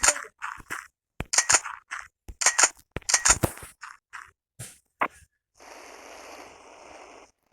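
Timer firecracker bombs go off in a rapid, irregular string of sharp, loud cracks and pops, followed by a few seconds of steady fizzing hiss.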